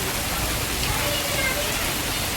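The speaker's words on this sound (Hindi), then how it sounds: "बारिश बहुत ज़ोर से हो रही है, बहुत ज़ोर से" Heavy rain pours down steadily on a street, a dense, loud, continuous hiss of falling water with no breaks.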